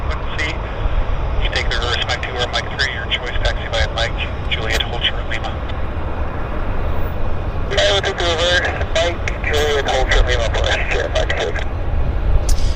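A jet landing on a wet runway at Vancouver airport gives a steady broadband engine roar and spray noise, heard at a distance under nearly continuous nearby talk and radio chatter.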